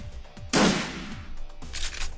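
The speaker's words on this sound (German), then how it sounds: "Und einen gezielten Schuss." A single aimed gunshot from the video game Shadowrun Returns, a sharp, loud burst that decays into a short noisy tail, followed by a quieter second burst of game sound effects.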